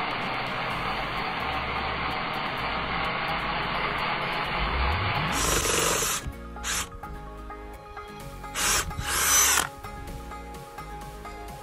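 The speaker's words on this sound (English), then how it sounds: "I think we should drill it again" A power drill bores into an iPhone, its steady whine running for several seconds with a rising pitch sweep, then cutting out into short, loud bursts of high-pitched grinding and spinning with quieter gaps between them.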